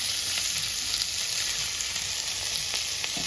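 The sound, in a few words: frying chopped ivy gourd (dondakaya) in oil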